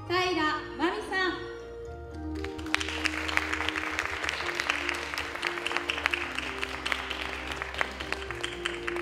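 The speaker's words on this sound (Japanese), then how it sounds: "ここで皆さんの拍手が必要になっておきますよ。" An audience at a Naha tourism campaign lady judging contest in Naha's Bunka Tenbusu hall applauds a contestant. Someone speaks briefly first, then steady, dense clapping runs to the end over a low sustained background tone.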